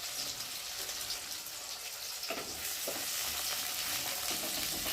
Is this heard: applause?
no